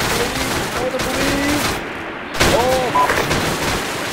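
Enemy heavy machine gun fire in Arma 3, loud sustained rattling bursts with a short lull midway, mixed with game noise and faint tonal sounds.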